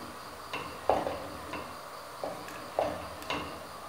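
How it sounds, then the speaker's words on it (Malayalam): A spoon scrapes and knocks through thick Thiruvathira puzhukku in a pot, about six quiet, unevenly spaced strokes over a soft low background hiss, with no talking. "നമുക്കിതൊന്ന് ഇളക്കി വെക്കാം."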